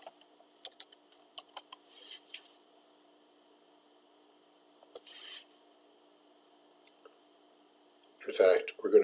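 Computer keyboard typing heard as sparse, quiet clicks and short bursts of keystrokes in a quiet room, with a brief voice near the end.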